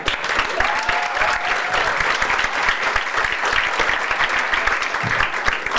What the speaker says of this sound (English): Please give it up for Lee Stevens